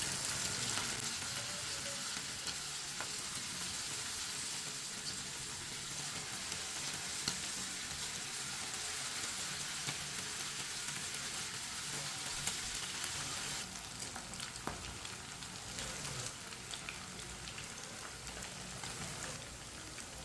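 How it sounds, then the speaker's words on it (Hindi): Chicken pieces frying in hot oil, cooked for an iftar chicken dish, give a steady, dense sizzle and crackle that runs unbroken and close-up throughout, with no talking. "आप देख सकते हैं ऑयल हमारा अच्छी तरह गर्म हो चुका है। अब चिकन का एक एक पीस करके डाल लेंगे।"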